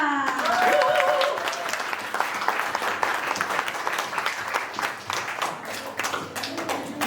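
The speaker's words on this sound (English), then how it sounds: "Let's give them a big round of applause as well to our coach," Audience applause rings out for a coach at a summer workshop recital and awarding ceremony, a steady dense clapping that fills the hall for several seconds and tapers slightly toward the end.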